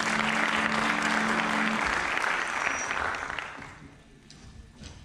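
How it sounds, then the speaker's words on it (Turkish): Audience applause fills a concert hall at a Republic Day celebration concert, dense steady clapping that fades toward the end, with a brief sustained tone under it early on. "Bir kez daha alkış alabilir miyim?"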